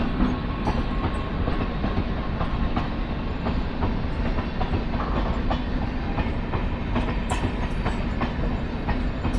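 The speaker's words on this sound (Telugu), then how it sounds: "మడ్గావ్ నుంచి మంగళూరు సెంట్రల్ వరకు వెళ్తుంది ఈ బండి" A MEMU express train running from Madgaon to Mangaluru Central on Konkan railway tracks, with a continuous loud rumble and rhythmic clickety-clack of wheels over rail joints heard from on board, no talk.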